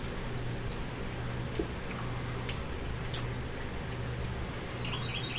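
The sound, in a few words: rain falling in a garden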